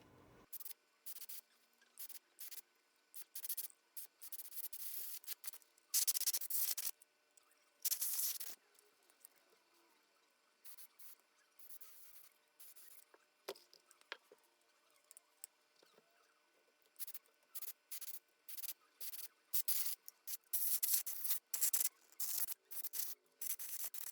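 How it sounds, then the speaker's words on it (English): Canned compressed air hisses in short bursts into the components of a Fishman SA220 PA system, with repeated sharp sprays separated by quiet gaps, close and fairly faint. "spray some canned air down into these components as deep as you can"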